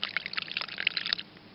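Water pours in a thin, gurgling trickle for about a second, close by, then stops.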